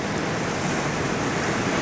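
Ocean waves on the Cornish coast near Cape Cornwall, a steady, full wash of surf rolling continuously and fairly close, with no voices over it.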